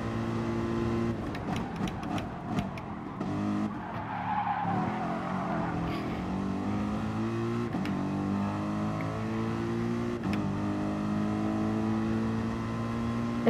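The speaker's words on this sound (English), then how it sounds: "This car is very loud." A race car engine drones steadily in Gran Turismo Sport, with sustained revving and some tyre skid noise, fairly loud and uninterrupted, with no talking.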